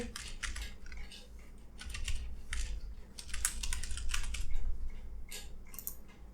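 Data being typed on a computer keyboard in a rapid, continuous patter of close keystrokes with brief pauses between runs.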